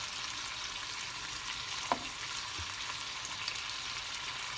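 Sliced potatoes frying in a pan for a truffade auvergnate give off a steady, soft hissing sizzle throughout, with a faint utensil tap or two and no one talking.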